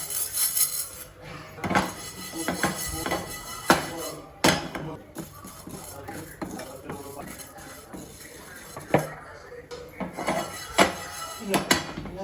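A metal cooking pan clanks and clinks while cumin, coriander seeds and urad dal are handled and stirred, with repeated sharp knocks and utensil scrapes at close range.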